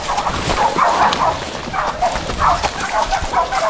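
Hunting dogs barking while they hold a big wild boar at bay, repeated loud, close barks and yips in irregular bursts over rustling outdoor noise.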